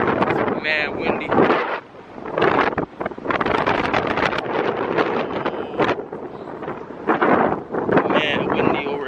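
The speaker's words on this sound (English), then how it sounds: "Mad windy over here." Strong outdoor wind roaring and buffeting a microphone, loud and gusty for the whole stretch with brief lulls, while someone talks over it.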